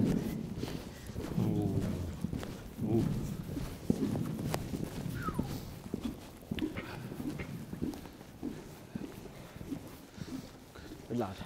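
A small horse's hooves clop and thud along a showground course at Keysoe, steady and moderately close, with people talking over the footfalls.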